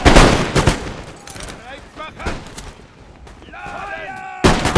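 A rank of muskets fires a loud ragged volley on a period battlefield in Empire Total War, cracking blasts opening and closing the stretch with rumbling battle noise between.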